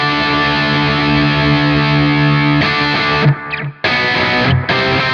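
Electric guitar run through a Line 6 Stadium amp modeler with Bogner cabinet impulse responses, sounding loud and distorted, with held chords giving way to choppy, muted bursts and brief gaps.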